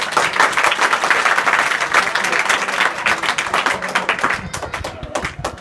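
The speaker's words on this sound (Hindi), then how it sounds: "वेरी गुड, ताली बजाओ।" Students at a school assembly at Palakdhari Inter School in Mahuwa Murarpur, Azamgarh, break into loud, sustained applause, a dense burst of clapping that thins and softens toward the end.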